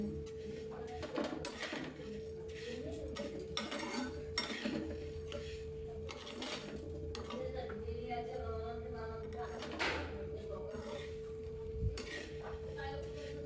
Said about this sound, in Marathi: तांदूळ सगळं आम्ही भाजून घेतो आता